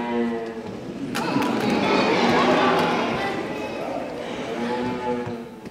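A reluctant cow being hauled indoors alongside a donkey lets out drawn-out lowing moos at the start and again at the end, with heavy thumping movement in between.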